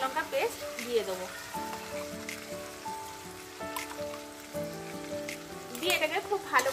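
Ginger, garlic and green chili paste sizzles with softened tomato in a pan for restaurant-style matar paneer, a steady low frying hiss beneath a woman's ongoing speech, with brief stirring scrapes.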